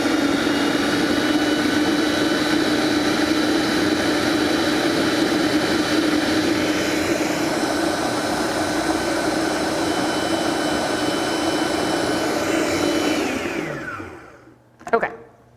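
A food processor whirs loudly and steadily as it mixes butter, salt and pepper, a dense motor drone that holds for about thirteen seconds, then winds down and stops, followed by a short clack.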